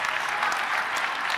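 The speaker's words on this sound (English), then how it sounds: "Give my husband a round of applause." A conference crowd at Beyond the Bars 2017 gives steady, full applause, an even wash of many hands clapping at the same level from start to end.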